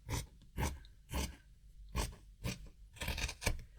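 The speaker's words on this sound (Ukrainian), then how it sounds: "Отак оце зайве я обрізаю." Scissors snip away excess dress fabric, a series of close, crisp cutting strokes in quick rhythmic bursts, with no talking.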